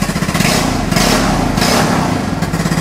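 A Vespa Matic scooter engine with a two-stroke style exhaust revs up and eases back several times, close and loud, its rapid buzzing swelling and dropping with each blip of the throttle.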